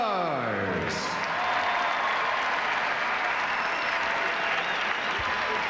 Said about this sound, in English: Ladies and gentlemen, a round of applause for the 2003